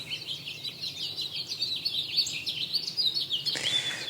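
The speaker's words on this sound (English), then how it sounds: "Do you hear that bird song?" Birds chirp and sing outdoors on a spring morning, a steady run of bright, overlapping tweets and calls at moderate distance, with a louder, closer call near the end.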